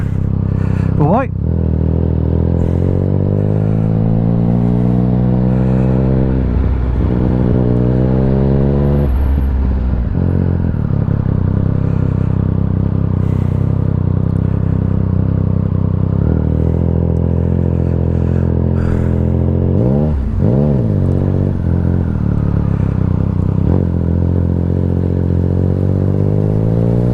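A Triumph Speed Triple RS on an Austin Racing exhaust idles loudly up close, with several sharp revs rising and dropping back to a rough, booming idle.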